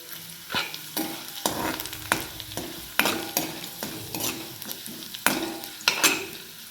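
Cumin, mustard seeds and curry leaves fry in hot oil in a pan, giving a steady close sizzle broken by repeated scraping strokes and light clinks as a spoon stirs them.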